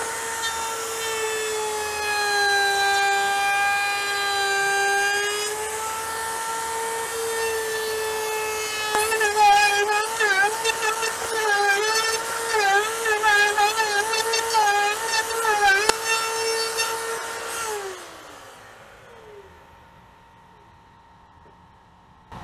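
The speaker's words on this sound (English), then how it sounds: "once that spins, it's going to cut around chamfer all around the entire perimeter that we run through this" A router fitted with a bearing-guided chamfer bit and template spins up with a rising whine, then cuts a chamfer around an epoxy resin and wood piece in a loud, steady, buzzing stretch before spinning down and falling quiet near the end.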